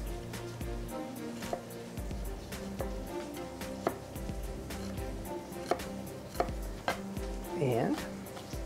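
Knife mincing shallot on a cutting board, rapid close rhythmic chopping taps in quick bursts with a steady faint background hum.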